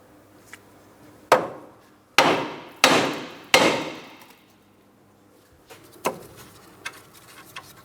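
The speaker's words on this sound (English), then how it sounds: "If you happen to have a hammer, you can tap on the steering knuckle." Several sharp metallic hammer strikes on a steering knuckle of a Mitsubishi Outlander, loud and close, spaced about a second apart, followed by a few softer taps.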